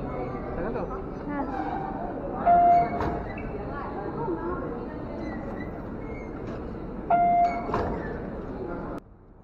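Interior of a train running from Cork Kent station to Dublin, with a steady rumbling carriage noise throughout and two short chime-like electronic tones standing out, then a sudden cut to quiet near the end.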